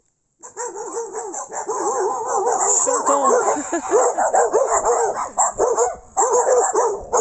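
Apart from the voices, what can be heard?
dogs barking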